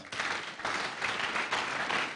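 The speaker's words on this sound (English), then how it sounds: "Let's clap to that." An audience at an e-learning week event applauds in a short burst, a moderate crowd clapping in slightly pulsing waves that carries on evenly through the whole moment.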